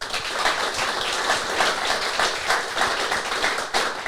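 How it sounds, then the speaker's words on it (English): Audience at a live podcast recording in a sports bar claps and cheers, a dense steady wash of applause filling the whole stretch at fairly close range with no voices on top. "Give them a round of applause."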